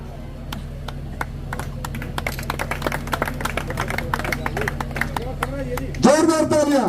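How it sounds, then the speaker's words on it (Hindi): Applause breaks out for guests at a village event honouring a former SDM, with a crowd clapping loudly and steadily at close range, ending under a voice talking over it. "जोरदार तालियां।"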